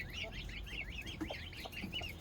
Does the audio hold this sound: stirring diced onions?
no